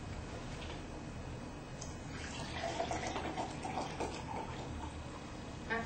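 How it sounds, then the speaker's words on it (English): Milk poured over vanilla syrup in a glass, a soft continuous liquid stream with faint gurgling, quiet and close, steady for several seconds. "Then you're going to put the milk."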